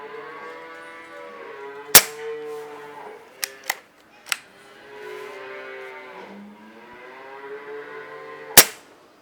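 Air rifle shots fired at a dove on a farm, two sharp cracks spaced several seconds apart with a few smaller clicks between them, over a steady background of birdsong and lowing cattle.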